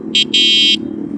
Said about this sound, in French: Et j'en profite pour vous faire écouter le klaxon.